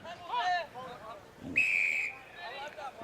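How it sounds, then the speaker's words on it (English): A sharp, shrill umpire's whistle blast at a football match, lasting about half a second, sounding over distant crowd murmur and outdoor chatter. "And the umpire's blown the whistle."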